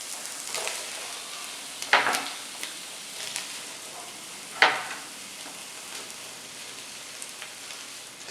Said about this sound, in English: We can throw our sausage on in there with our vegetables.